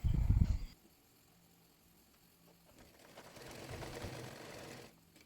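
A sewing machine hems the leg of palazzo pants, with a short loud burst of stitching at the start, a quiet pause, then a softer, longer run of rapid stitching before it stops.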